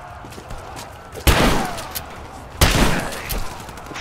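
Shotgun blasts in the video game Rise of the Tomb Raider, two loud booming shots spaced about a second and a half apart, each followed by a lingering rumble over faint ambient game sound.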